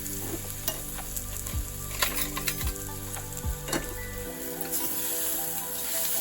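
Cluster beans fry in hot oil with coriander powder and spices, sizzling steadily while a spoon stirs and scrapes the pan in several distinct strokes, close and fairly loud, with no talk.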